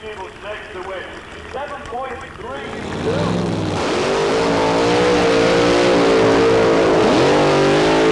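A drag racing car leaves the start line at the 1994 Summer Nationals at Santa Pod. A commentator talks at first, then a loud engine roar rises and holds close and powerful to the end.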